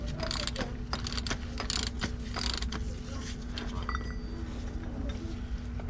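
A ratchet works an oil drain plug loose on a 2020 Toyota 4Runner, giving short bursts of sharp metallic clicking in the first few seconds over a low steady hum, followed by quieter handling noises.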